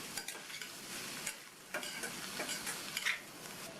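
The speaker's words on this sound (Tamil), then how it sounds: "இந்த தேங்காய் கொத்தமல்லி பச்சை மிளகாய் கலவையை சேர்த்ததுக்கப்புறமா நல்லா ஒரு தடவை மிக்ஸ் பண்ணி விட்டுருக்கணும்" A coconut, coriander and green chili mixture is stirred into chow chow poriyal in a pan. Soft, close scraping and stirring strokes repeat irregularly over a faint sizzle.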